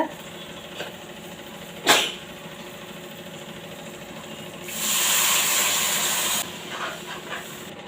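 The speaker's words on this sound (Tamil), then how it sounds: "இப்போ பார்த்தீங்கன்னா குழம்பு நல்லா கொதிக்குது" A pot of tamarind-based fish curry boils on the stove, giving a soft, continuous bubbling hiss that swells louder for a couple of seconds, with a sharp clatter earlier.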